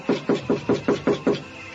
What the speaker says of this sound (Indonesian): Biar aku coba mengetuk pintu ini.